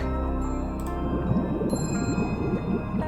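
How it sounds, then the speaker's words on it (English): Bubbling water in the GoV Nikke video game gurgles with rapid, close droplet-like pops over a steady musical drone, moderately loud. "Yeah, bubble. Yeah, that's like water sound."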